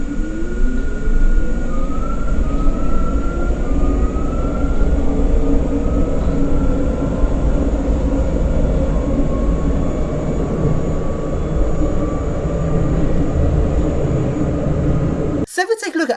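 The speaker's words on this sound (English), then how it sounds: "This is an Ansaldo Breda tram" An Ansaldo Breda tram running through Turin, a steady loud rumble of motor and wheels on rough track with faint rising whines, continuous for the whole pass before cutting off abruptly at the end.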